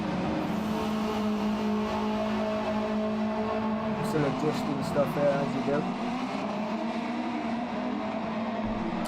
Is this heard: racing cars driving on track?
yes